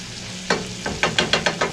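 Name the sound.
ham, bell peppers and onions frying in a skillet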